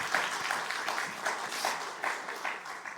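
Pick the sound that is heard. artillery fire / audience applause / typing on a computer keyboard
audience applause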